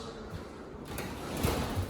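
A sliding closet door, newly installed, rolls along its track with a brief scraping rumble, close by and fairly quiet.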